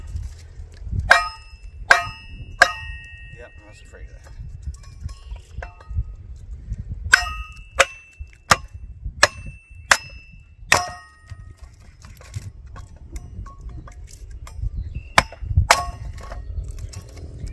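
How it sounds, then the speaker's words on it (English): A small sledgehammer or hand maul strikes firewood resting on a cast iron kindling splitter, giving sharp ringing metallic clangs, some in quick pairs and others spaced apart, close and loud with no talk. "I'm just using a little hand maul here, a little sledgehammer"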